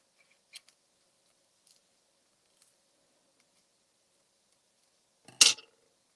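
Scissors cut a small strip from a foam pad in a single short, crisp snip near the end, after a few faint ticks and near silence.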